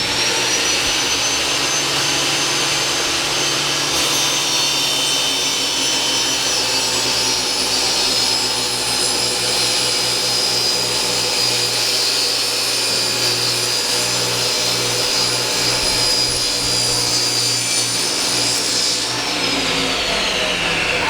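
A power saw cuts through a plywood piece in one long, loud, continuous whine lasting nearly twenty seconds before winding down, heard close up with faint talk in the background.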